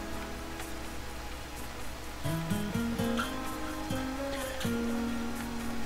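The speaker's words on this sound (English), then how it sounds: "Since it's still raining" Steady hiss of rain in the video game RimWorld falls throughout, joined partway by soft melodic music notes.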